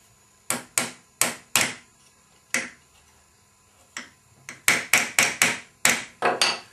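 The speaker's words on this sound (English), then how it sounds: "Stick in the nail," A nail is tapped into a wooden luthier clamp jaw in sharp close knocks, a few spaced strikes and then a quicker run of repeated blows, each short and crisp with a brief ring.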